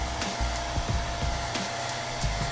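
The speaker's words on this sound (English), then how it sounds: "Now I'll take a blow dryer on a cool, really light, and kind of dry it just a little bit." A blow dryer on a low, cool setting gives off a steady, soft airy whoosh at close range during lace wig reapplication, with faint intermittent clicks and bumps and no voices.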